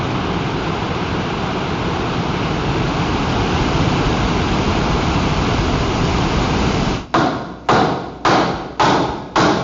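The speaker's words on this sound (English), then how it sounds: "Victoria Falls in southern Africa is one of the largest sheets of falling water in the world." The roar of Victoria Falls in southern Africa, one of the largest sheets of falling water in the world, pours as a loud, steady, dense rush, then breaks into a few rhythmic heavy thuds near the end.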